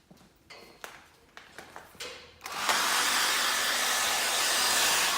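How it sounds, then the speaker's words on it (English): A few light knocks and handling clicks, then a hair dryer switches on at a single speed and blows with a steady, loud broadband whoosh close by, drying fibre binder on a classic car seat. "I am going to speed it up with the hairdryer"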